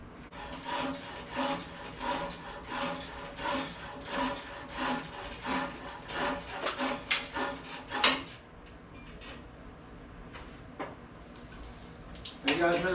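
A coping saw cuts through a hickory axe handle held in a vise, giving rhythmic back-and-forth rasping strokes that are close and moderately loud, then slowing to sparse scrapes and knocks.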